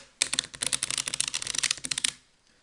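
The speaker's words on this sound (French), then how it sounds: "vous faites pareil et vous venez effeuiller carte par carte" Playing cards riffled together one by one in a shuffle, a rapid dense run of crisp flicking clicks lasting about two seconds before stopping abruptly, close and clear with no talk.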